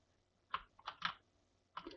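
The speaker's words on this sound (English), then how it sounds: "I can fly around with the keyboard buttons" A few computer keyboard keys clack in quick clusters, close and crisp, separated by short silences, while flying a camera around in Vuforia.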